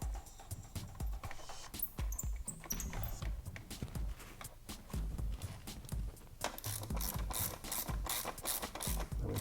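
A ratchet wrench clicks rapidly while tightening a nut on a Womet-Tech frame slider being fitted to a 2015-2018 Yamaha YZF-R3 motorcycle, with close, steady bursts of ratcheting and brief pauses between them.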